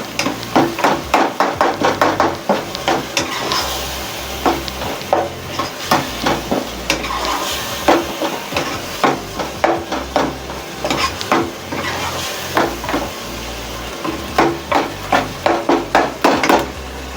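A spoon stirs white lobia keema with ground cumin and red chili powder in a pan, knocking and scraping against the metal in quick rhythmic bursts over a soft sizzle, with no voices.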